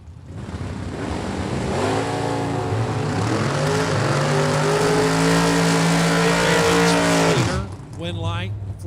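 A little red pickup truck and a white Camaro launch in a drag race at a super pro bracket event, engines roaring loud and rising in pitch over several seconds before cutting off, with an announcer talking over them.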